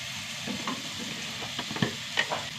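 Tomatoes sautéing in a pan with spice powders: a steady close sizzle with scraping stirs and small clinks of a spoon against the pan.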